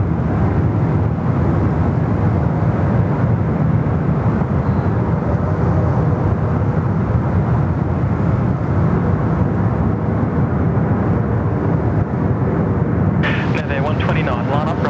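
A heavy jet roars on the runway at Sydney Airport, a loud, dense rumble that holds steady for the whole stretch, with voices breaking in near the end.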